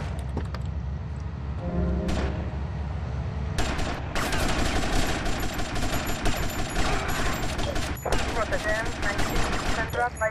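Bursts of rapid gunfire ring out in GTA Vice City, loud and close, with sharp volleys coming in clusters and brief lulls between them, and game sounds mixed in.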